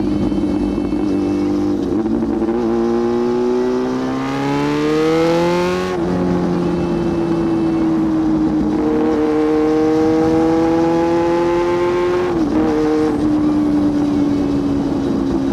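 A loud Yamaha R6 sport motorcycle is ridden close up, its engine note climbing steadily through the gears, with abrupt shifts and downshifts and hard acceleration throughout.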